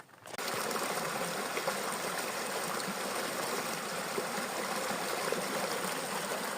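A river stream flows steadily along a pilgrimage route to Saint-Jacques-de-Compostelle, a soft, even rush of water that starts abruptly and continues unbroken at low volume.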